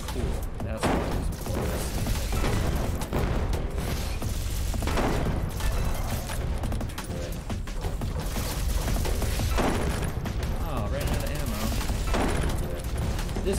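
Gunfire from a weapon in the video game Echo Point Nova bursts in dense, rapid shots that go on loudly and almost without pause, with thuds mixed in.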